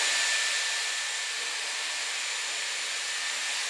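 A Dyson Airwrap hair styler blows hot air in a steady, close, unbroken hiss with a faint high whine running through it, holding level the whole time with no talking.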